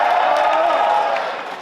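A concert crowd at an opening-act show roars and cheers in a dense, loud, sustained wash of voices that fades slightly at the end.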